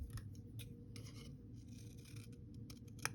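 Scissors snipping through paper to cut out collage shapes, with quick, close, repeated cuts and soft rustling, no voices.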